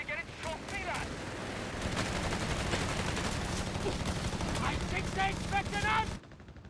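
Machine gun fire in the WWII strategy game Company of Heroes 3 during a 2v2 match, sustained rattling bursts with scattered explosions under a dense battle din, with someone talking over it throughout.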